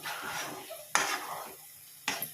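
Goat lung fry with coriander being stirred in a pan, two sharp scrapes and clinks of a utensil against the pan over a faint background sizzle, close and brief, no talking.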